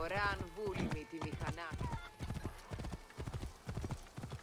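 Rapid rhythmic hoofbeats of a galloping horse in Assassin's Creed Origins, steady and close, with a brief whinny at the start and talk over the top.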